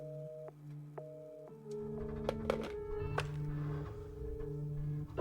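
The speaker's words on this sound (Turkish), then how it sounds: "Telefon mu çaldı lan bakalım." Telephone in the horror video game Resident Evil 7 ringing with repeated steady electronic tones, clear and fairly close, with a low background hum and a few thumps underneath.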